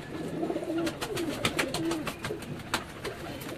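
A teddy pigeon of the 64 breed line from a loft in Islamabad coos in low, repeated rolling phrases, fairly close, with faint bird chirps and background clatter around it.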